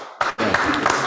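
Meeting attendees at a town planning commission session break into a round of applause for a departing, retiring town manager, a dense burst of clapping that starts abruptly after a brief pause and carries on steadily, close and loud.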